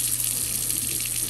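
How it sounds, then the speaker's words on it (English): Steady running water pours close by as a newborn baby's hair is rinsed during a first bath, a continuous splashing stream with no talk over it. "Rinse our hair."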